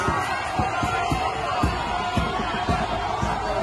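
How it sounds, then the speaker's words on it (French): A large crowd at a Martin Fayulu political rally in Kinshasa makes a dense, loud roar, with a steady rhythmic pounding running through the chanting mass of voices. "Voilà la foule."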